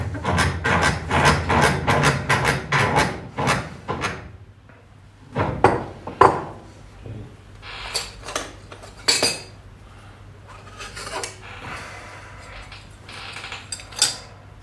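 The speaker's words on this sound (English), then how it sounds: "the first couple of bearings, I'm going to press them in using the vise" Metal parts for the shock linkage bearings on a 1999 Hayabusa clink and tap at a workbench vise, a rapid run of close metallic knocks, then scattered clanks and rattles with quieter pauses between.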